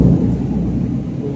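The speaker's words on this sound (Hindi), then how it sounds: "तो आज बारिश का मौसम है" Low, steady rumble of thunder with rain outside during a monsoon day, continuous and fairly loud throughout, with no voices.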